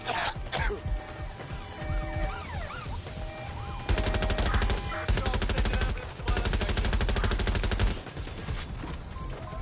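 Sustained automatic gunfire from Albion forces in the video game Watch Dogs: Legion, dense rapid bursts loud and close, with siren-like tones wailing through the mix and pauses between volleys.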